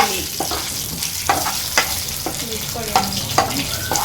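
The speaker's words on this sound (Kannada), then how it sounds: "ಸಾಸಿವೆ ಹಾಕ್ತಾ ಇದೀವಿ. ಪಲಾವ್ ಎಲೆ ಹಾಕ್ತಾ ಇದೀವಿ." Mustard seeds and a bay leaf crackle and sizzle in hot oil for a dal khichdi, with a steady frying hiss broken by sharp, irregular pops of seeds bursting close by.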